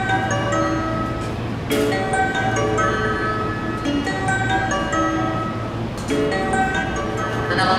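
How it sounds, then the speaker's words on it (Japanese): An out-of-service train rumbles into platform 7 of a Japanese station with steady rail noise and a couple of sharp metallic squeals, fairly close. "まもなく7番乗り場に回送列車が参ります。"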